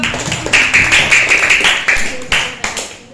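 A group claps in short bursts after a correct answer in a religious quiz contest between teams, with loud, close claps in a rough rhythm and voices mixed in.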